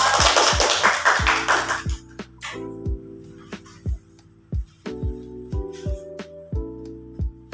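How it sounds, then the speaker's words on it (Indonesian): A class applauds: a burst of dense clapping rises for a couple of seconds and then dies away, leaving only sparse scattered taps and knocks. "Beri tepuk tangan dulu dong."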